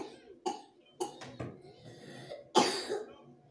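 A person coughs in several sharp, close bursts over a few seconds, with the last cough the loudest, in an otherwise quiet room.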